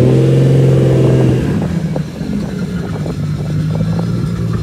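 A Nissan Skyline R34 GT-R V-Spec 2 at a BMW M celebration event, its engine loud and near, first holding a steady high rev that drops to a rumbling idle with slight throttle blips.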